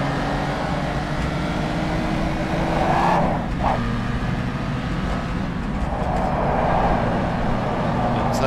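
A 1954 Daimler-Benz 300 SL being driven around the Bathurst circuit, its engine a steady, loud drone heard from on board, with two brief swells in pitch as it works through the lap.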